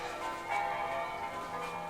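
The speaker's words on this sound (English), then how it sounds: "The bells! The bells!" Bells ring out steadily with sustained tones that blend and hang in the air, sounding distant and moderately loud, heard from inside a house while roof insulation work is under way, with no one speaking.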